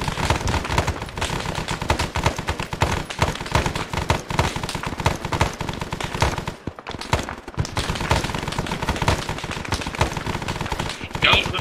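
Dense, loud automatic gunfire in the Vietnam-era video game Arma 3, continuous rapid bursts with a brief pause near the middle, then resuming heavy and close.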